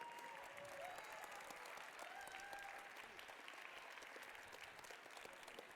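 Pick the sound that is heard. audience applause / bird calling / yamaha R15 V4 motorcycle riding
audience applause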